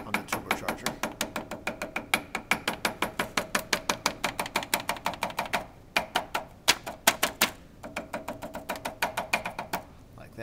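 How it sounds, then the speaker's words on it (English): A ball peen hammer taps rapidly and steadily on paper over a turbocharger flange to cut a gasket outline, giving sharp, close, evenly spaced clicks in long runs with brief pauses. "if you tap often enough, diligently enough, you'll actually cut right through the paper and you'll cut an outline"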